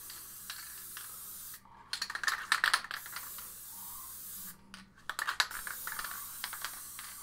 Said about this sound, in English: You want to spray real good everywhere where the fleece is going to be put.